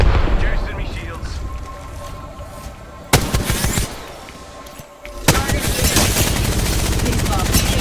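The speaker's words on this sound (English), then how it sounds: "They're shooting at me." Rapid video game gunfire, dense automatic bursts mixed with heavier blasts and explosions, loud and continuous throughout with sharp louder impacts near three and five seconds, and a voice talking over the action.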